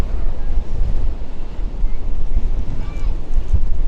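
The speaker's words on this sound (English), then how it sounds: "The wind's coming towards us." Strong wind buffets cyclists riding into a headwind on a Blackpool illuminations tour, a loud, continuous low rumble of gusts hitting the microphone throughout with no clear voices.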